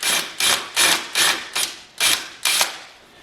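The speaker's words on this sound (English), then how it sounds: "take a lot of care that you don't have the drill bit bind in and start chewing away a lot of wood" A drill bit countersinks into wood in seven short, even bursts of rasping, each about a third of a second, close and fairly loud with brief pauses between.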